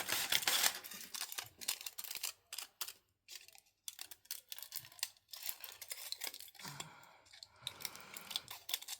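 Scissors snip through paper for a junk journal, with a quick series of close, crisp cuts and rustling handling noises separated by short pauses.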